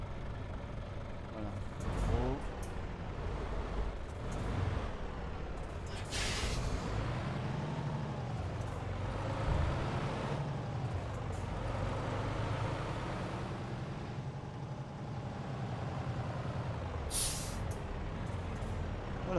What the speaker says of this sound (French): je vous présente le camion de chez Truck Logistique Fret qui travaille pour Exafret